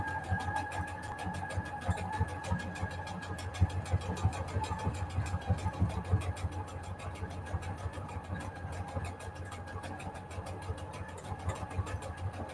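A sewing machine stitches through a damp index card collage pocket for a junk journal, a fast, steady mechanical chatter that runs on without pause at close range.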